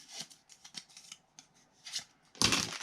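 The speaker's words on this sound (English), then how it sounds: "all I'm doing is cutting off the tab portion" Scissors snip through a paper file folder to cut off its tab, a run of short crisp cuts followed by a louder rustling burst at the end.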